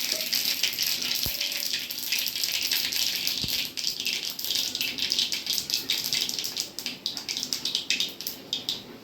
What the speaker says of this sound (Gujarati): રાઈ ફૂટી જાય ને એટલે વઘાર કરું.